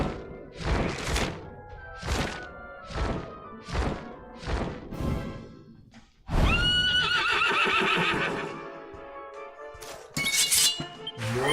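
A dragon horse in the video game Dragon Quest XI neighs in a series of about seven short, sharp whinnies, then gives one longer, louder drawn-out neigh, with clinking and a thunk near the end.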